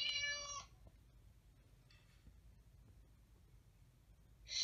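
A cat meows loudly and close at the start, then a fainter meow follows midway and another begins at the end, three short calls separated by quiet room hiss with no talking.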